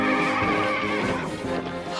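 A cartoon horse gives a loud, close whinny of about two seconds, a wavering, pitch-bending neigh from an animated Hanna-Barbera film, heard alone with no talking.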